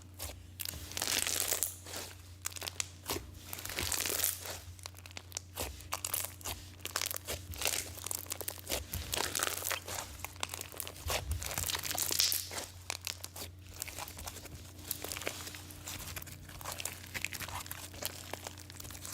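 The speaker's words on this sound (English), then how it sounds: "the little balls inside of the floam really help create those air pockets for the perfect crispy, crunchy, poppy slime ASMR" Crunchy purple floam slime packed with tiny beads being squished and pressed, giving dense, continuous crackling and popping close up, with no talking.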